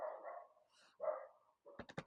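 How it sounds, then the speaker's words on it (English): A dog barks indoors, several short yelps and whimpers followed by a quick burst of three or four barks at the end, fairly close and with no talk over it. "you can hear the dog barking"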